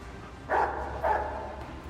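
A dog in the video game Rogue Trader gives two short barks about half a second apart, moderately close, over a quiet low background hum with no talking.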